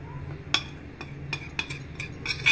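A spoon clinks against a bowl while mixing yogurt with food colour and nutmeg-mace powder for biryani, giving several sharp, close taps spaced irregularly over a quiet background, with no talking.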